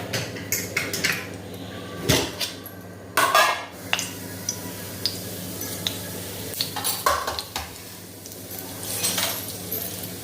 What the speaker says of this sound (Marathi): जिरं छान तडतडलं